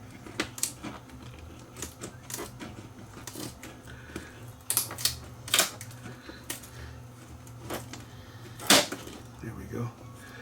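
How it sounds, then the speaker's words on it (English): Adhesive tape ripped loose inside an opened RCA RLD3273A LED TV during repair, a series of sharp, close tearing bursts scattered over a steady low hum, with the loudest pulls near the end. "Get this tape free over here"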